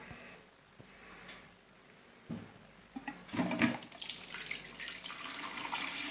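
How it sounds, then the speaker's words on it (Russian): A quiet room, then the drain tap of a home cheese vat opens and liquid starts running out, splashing steadily and growing louder into a container. "Открываем кран слива продукта."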